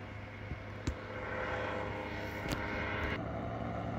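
A small remote-controlled aircraft passes overhead under steady throttle, its engine a continuous drone that swells slightly as it nears, with a few faint clicks alongside.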